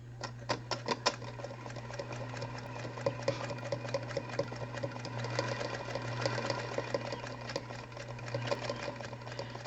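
A Singer Featherweight sewing machine chain-pieces fabric hexagons, its fast rhythmic needle clatter running steadily under a low motor hum, with a few short pauses and restarts and no speech.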